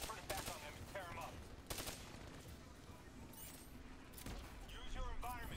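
Hijacked turrets fire in the video game Black Ops III, with rapid bursts of gunfire repeating over several seconds under a steady mix of game sounds.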